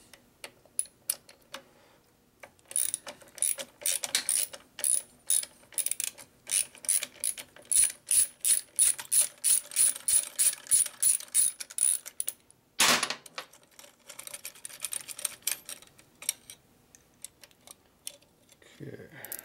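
A hand ratchet clicks in quick, steady bursts while bolts come out of a Harley-Davidson shovelhead stroker big-bore motor, with close, sharp ratcheting runs separated by short pauses and a single heavy clunk near the end.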